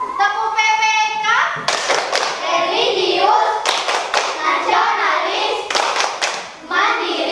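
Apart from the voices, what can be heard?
class clapping rhythmically in a clapping chant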